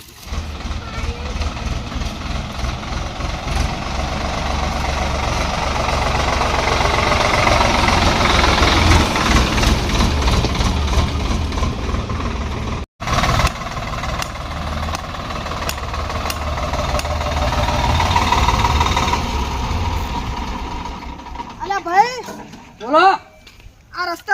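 Tractor engine idling, a low steady rumble and knock that runs under lively conversation between several people, with a brief cut midway and louder voices toward the end.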